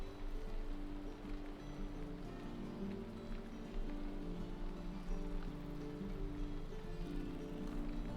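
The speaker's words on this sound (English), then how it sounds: "It's raining." Steady rain falling in Valheim, a dense continuous patter on surfaces at an even level throughout, with no talk over it.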